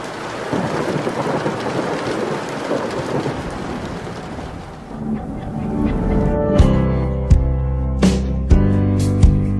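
A thunderstorm with steady rain, heavy rain hiss first, then deep rolling thunder and several sharp, loud cracks near the end, with no talk.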